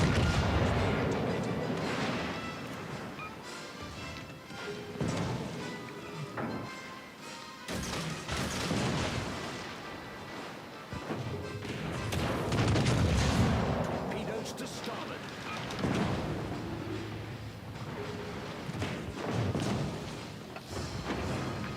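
Heavy warship gunfire in World of Warships: Legends, repeated booming salvos and thuds every few seconds over continuous battle noise, with a voice talking.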